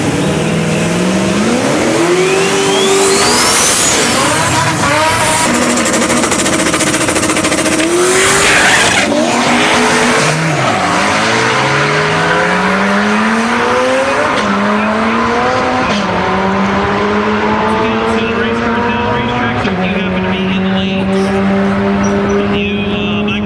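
Loud turbocharged 1965 Oldsmobile 442 drag car, a 400 cubic inch small block with a 94mm turbo, revving hard at a street car event, with rising engine pitch through gear changes and tire squeal amid crowd noise.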